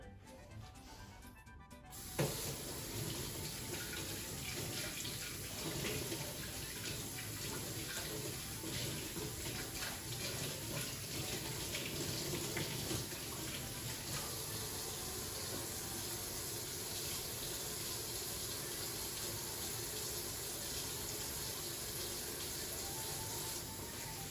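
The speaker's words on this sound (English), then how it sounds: "Now my hands are all dirty again. So give me a second while I wash those up." Hands being washed under a running kitchen sink tap while making Oreo dessert pops, a steady close rush of water that starts abruptly after a brief quiet moment and continues unbroken to the end.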